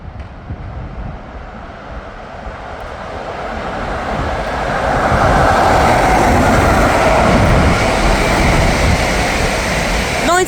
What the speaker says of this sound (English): passing through now is a Freightliner Class 90 on a container train from Felixstowe North to Garston